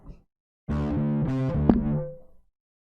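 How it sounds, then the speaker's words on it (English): A bass guitar played through a distortion effect plays a slow phrase of several sustained, gritty notes at steady volume for under two seconds, then fades out. "let's crank up that distortion, and we're going to play this whole section nice and slow"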